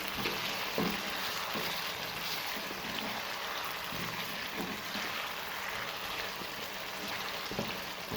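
Chicken and garlic ginger paste frying in a pan, a steady quiet sizzle with occasional soft stirring scrapes, continuous and fairly faint with no talking.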